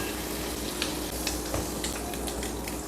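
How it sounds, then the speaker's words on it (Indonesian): Unbreaded chicken fries in hot oil with a constant, dense sizzle and occasional crackling pops, close by and steady throughout. "Ini goreng ayam."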